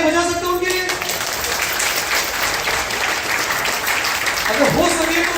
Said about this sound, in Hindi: तालियां बजा सकते हैं उनके लिए?